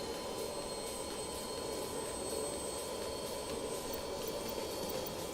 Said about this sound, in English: We're going to start with engine number 4. We're going to put star switch on and listen to the sound on this.